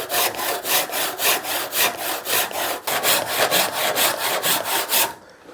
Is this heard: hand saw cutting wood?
yes